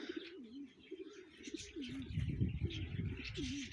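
Several pigeons coo in soft, rolling, repeated calls, with faint chirps and light rustling around them and no talking.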